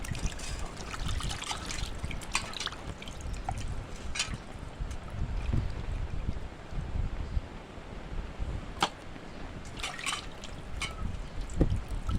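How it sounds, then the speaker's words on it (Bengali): Running water trickles and splashes steadily while fish pieces are rinsed by hand in a home kitchen, with occasional sharper clinks and drips over a continuous wash. "অনেক ধুতে হয় আর কি, অনেক ধোয়া লাগে"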